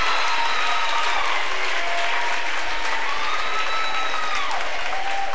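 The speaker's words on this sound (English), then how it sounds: "Let's give Penny a round of applause" Crowd at a high school basketball tournament awards ceremony claps steadily and loudly, a sustained burst of applause with faint whistles or cheers threaded through it.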